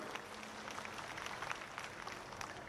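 Rally audience at a public meeting in Kolayat claps steadily throughout, a dense, continuous patter of many hands without pause, fairly distant and even in level.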